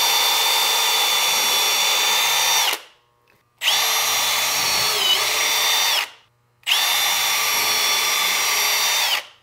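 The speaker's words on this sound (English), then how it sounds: "so I'm going to pre-drill holes" A power drill pre-drilling holes in a wooden 2x2 whines up to full speed three times in a row, each burst running a few seconds with brief pauses between, loud and close.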